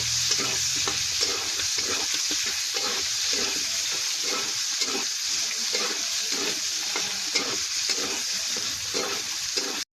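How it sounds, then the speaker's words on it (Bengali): Steady, loud sizzling of soybeans frying with turmeric in hot oil, a continuous crackling hiss with faint stirring scrapes throughout. "সোয়াবিন ভাজবো বন্ধুরা, দিয়ে দেবো একটু হলুদ, হলুদ দিয়ে ভাজবো বন্ধুরা"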